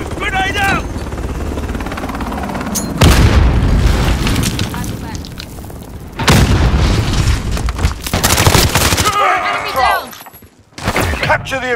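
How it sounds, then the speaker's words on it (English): A grenade explodes in Call of Duty Modern Warfare multiplayer with heavy, loud booms amid a helicopter's drone and scattered gunfire, while voices call out between the blasts. "Grenade out!"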